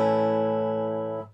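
A major chord strummed once on an acoustic guitar: a single bright, full chord that rings out steadily and alone for over a second before quickly fading.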